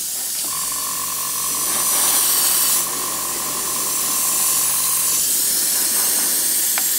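An airbrush sprays paint onto foam Warhammer 40k terrain pieces, a close, steady hiss with a thin whine that runs for about five seconds and then cuts off, followed by a brief click.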